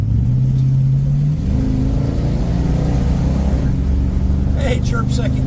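A 1965 Chrysler 300 with a TorqueFlight automatic, unrestored Arizona car, accelerates hard with a loud rising engine note through an upshift and a brief tire chirp in second gear, heard from inside while people talk.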